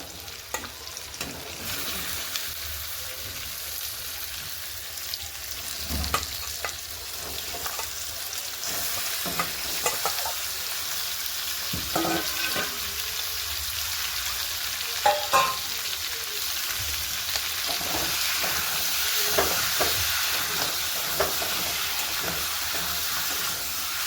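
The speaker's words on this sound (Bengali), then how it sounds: "আর দেখো মাংসটা এবার দিয়ে দিচ্ছি। মশলাটা কষানো হয়ে গেছে।" Meat sizzles and fries in a spice paste while a spatula stirs it, a steady hiss broken by scraping strokes and sputters throughout, with no talking.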